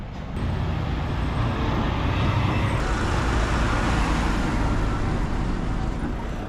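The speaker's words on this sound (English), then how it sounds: "I really don't like seeing this truck show up" A truck arrives at an excavation work site, a loud, steady engine rumble with a sharp air-brake hiss near the start, close by and with no talk.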